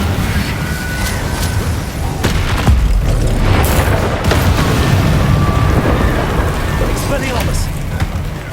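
Incendio fire spell cast in a Hogwarts Legacy battle on PS5, a loud, dense roar of flame and booming impacts with repeated sharp bursts throughout, amid constant combat noise.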